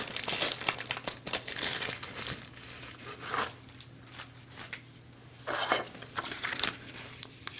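Crinkly plastic packaging of a pack of jewel border stickers being opened by hand, close and loud, with bursts of crumpling and tearing and quieter handling between.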